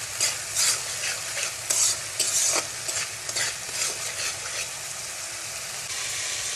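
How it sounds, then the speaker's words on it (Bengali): Spices with chilli powder and turmeric fry in a pan, a steady close sizzle broken by repeated scraping stirs, with no voices over it. "ভালো মতন নেড়ে চেড়ে নিব, ভালো মতন ভেজে নিব মশলাটাকে"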